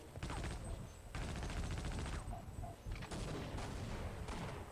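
Machine gun fire in the video game Half-Life: Opposing Force, sustained loud rapid bursts broken by brief pauses, close and dense, with no talk over it.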